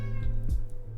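A cat lets out one short meow at close range, a brief tonal cry over a low steady hum.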